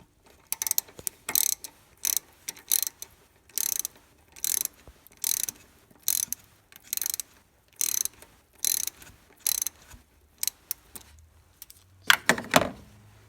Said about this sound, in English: take this last hose clamp down here off, and it's going to be the same as the top, so it's going to be a 7mm socket